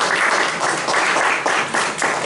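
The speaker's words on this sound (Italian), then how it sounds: "un applauso dalla Spagna" An audience at an Italian talk breaks into applause, loud close clapping in uneven bursts that swell and dip over a couple of seconds, no speech on top.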